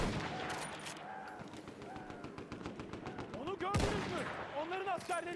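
Battlefield 1 gunfire sounds throughout, with rapid machine-gun bursts and rifle shots under someone talking, and a louder blast near the end, the shots mostly mid-distance.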